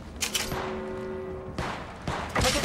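Bursts of enemy gunfire in the mobile shooter game Apex Legends Mobile, a few sharp volleys separated by brief pauses, fairly close and loud with no talk.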